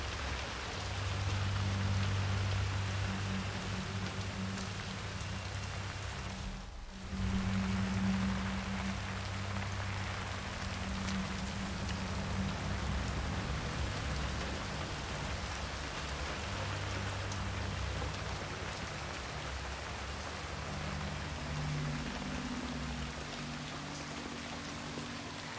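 Rain falling in the Hitman 3 video game, a dense continuous hiss of drops on surfaces with steady low rumble underneath, briefly cutting out for a moment before resuming unchanged.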